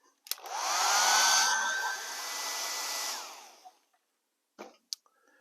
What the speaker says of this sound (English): Now we dry these real quick with a hair dryer.